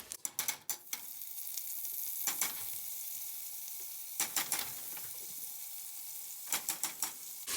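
Butter and onions sizzle softly in a soup pot, a steady low frying hiss broken by several bursts of sharp clicking and scraping from stirring, the cooking quiet and close with no talk.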